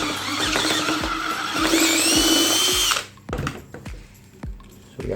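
A power drill with a titanium bit bores through PVC, whining loudly and rising in pitch before stopping abruptly, followed by several sharp plastic clicks and knocks.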